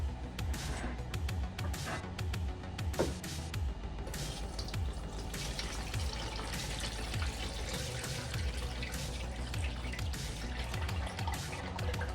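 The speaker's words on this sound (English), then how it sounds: "I'm gonna run this through the strainer at least one more time" Cranberry juice being poured through a strainer for home canning, a continuous close trickle and patter of dripping liquid running steadily for several seconds with no talking.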